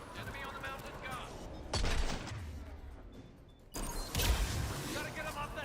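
Video game gunfire from an enemy mountain gun, with bursts of rapid shots and loud impacts under a voice, rising in two waves with a quieter stretch between.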